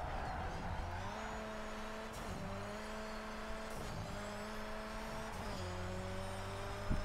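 A KTM X-Bow GT4 race car in the video game Project CARS 3 drives hard, its engine droning and climbing through repeated gear changes with brief dips between shifts, fairly faint and steady.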